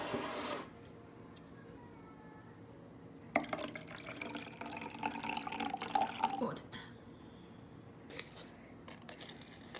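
Water pours into a protein shake being mixed half milk and half water, a close splashing fill that starts after a brief lull and runs for about three seconds before fading to quiet.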